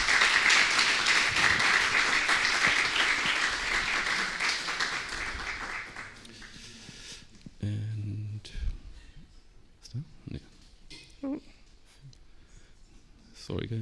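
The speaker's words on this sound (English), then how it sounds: "Please give a warm applause to Adak Pirmorady Sehouli" An audience at a talk gives a warm round of applause that fills the first six seconds and then dies away. Scattered rustling and a few quiet voices follow in a near-silent room.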